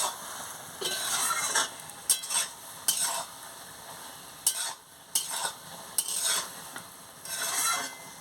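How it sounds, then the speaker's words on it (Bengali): A spoon stirs mixed vegetable chochchori after roasted cumin powder goes in, giving repeated bursts of scraping and soft sizzle against the pan, close and fairly loud, with short pauses between strokes. "আমি জিরা ভেজে গুঁড়ো করে রেখেছিলাম দিয়ে দিচ্ছি দিয়ে ভালো করে নাড়িয়ে নিচ্ছি"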